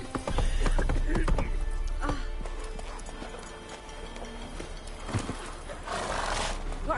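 Roach the horse in The Witcher 3 gallops with loud, close hoofbeats and lets out a neigh, amid game ambience with some voices.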